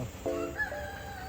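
A rooster crows once, short and fairly close, among ornamental chicken breeds at a fruit farm in Selangor, with a steady faint background hum.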